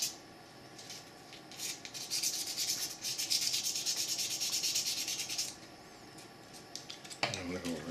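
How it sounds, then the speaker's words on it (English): Very fine sandpaper rubs back and forth over an aluminum 1911 pistol trigger part, a soft, rapid scratchy hiss in quick strokes, close and fairly quiet, with a voice coming in at the end. "This is extremely fine sandpaper."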